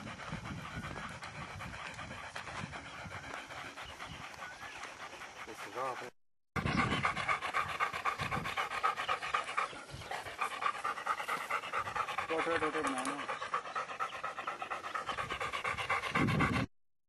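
A German shorthaired pointer pants steadily and rapidly, close up, in Azad Kashmir; the breathing runs on and on with a brief break partway through, and faint voices can be heard in the background.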